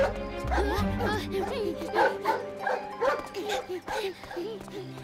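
A dog in the cartoon Martin Matin yips and whimpers in quick, high-pitched bursts, repeated several times over a busy background with people talking.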